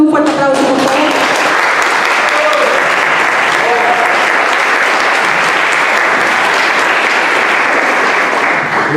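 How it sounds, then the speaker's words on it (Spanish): Loud, continuous applause from a conference audience welcoming a speaker, a thick wash of many hands clapping that holds steady from start to finish. "Lo recibimos con un fuerte aplauso, por favor"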